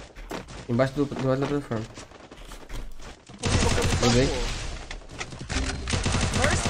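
Rapid bursts of gunfire from an online multiplayer shooter crackle through the second half, dense and loud, after a stretch where a player talks over quieter game sounds.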